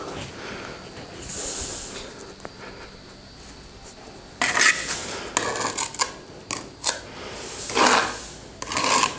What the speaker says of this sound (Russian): Также мы намазываем те же самые 5 миллиметров. То есть, да? И кладем кирпич.